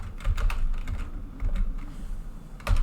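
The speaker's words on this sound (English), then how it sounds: "You can just type neofetch" A command is typed on a computer keyboard at a Linux Mint terminal, with close, crisp keystroke clicks in short uneven bursts and a few louder key presses near the end.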